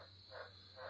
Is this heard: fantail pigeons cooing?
no